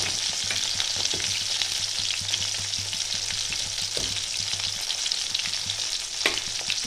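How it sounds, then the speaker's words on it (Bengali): Fish sizzles and spatters in hot oil in a pan, a steady loud crackle with occasional stirring scrapes and a low hum beneath, while lentils boil nearby for a Bengali moong dal muri ghonto. "মাছটাও ভাজা হচ্ছে"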